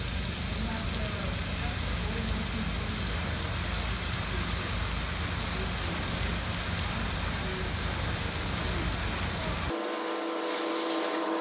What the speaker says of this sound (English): Big fat rain.